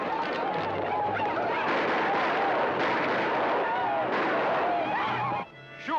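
Gunfire in a western TV show plays as dense, continuous volleys of shots with a crowd-like roar, loud throughout, while music and voices mix in.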